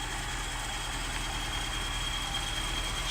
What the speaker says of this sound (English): Stage 1 V8 idling here.